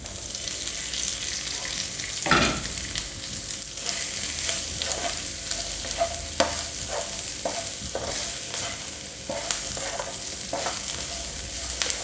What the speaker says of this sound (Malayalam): 2 മിനിറ്റ് ഒന്ന് വഴറ്റി മസാലയുമായി നന്നായി മിക്സ് ചെയ്തതിന് ശേഷം